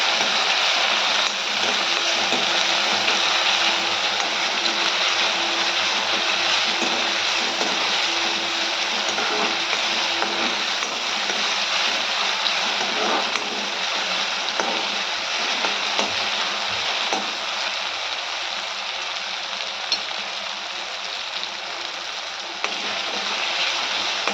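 Onion and tomato with a little salt sauté in a pan, giving a steady, loud, even sizzle that hisses on without a break and with no talking.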